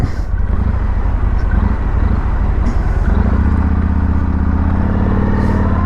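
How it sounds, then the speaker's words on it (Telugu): A Yamaha MT-01 1700cc V-twin motorcycle rumbles continuously while riding, a loud, deep, steady engine drone with wind and road noise mixed in throughout. "మంచి V ట్విన్ రంబుల్ అనేది ఉంది."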